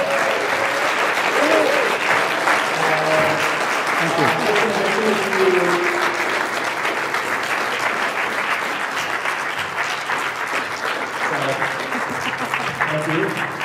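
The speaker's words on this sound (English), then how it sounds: "I want to give Vern and Jackie just one final round of applause here." Sustained audience applause fills a talk venue for the whole stretch, a dense steady roar of clapping, with talking voices mixed in underneath.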